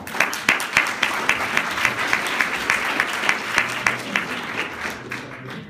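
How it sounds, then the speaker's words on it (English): Audience applause follows a keynote address, dense clapping with a few sharper individual claps standing out, holding steady before tapering slightly near the end. "I know you're really applauding Zapiro"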